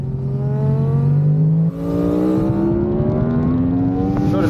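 A rented motorcycle accelerates hard on a race track, its engine note climbing steadily in pitch, dropping briefly at a gear change, then rising again, loud and close throughout.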